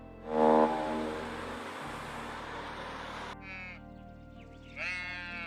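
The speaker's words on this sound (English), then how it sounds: "S is for sheep." A sheep bleats loudly up close, then gives a couple of shorter, fainter bleats over a steady low rumble in the background.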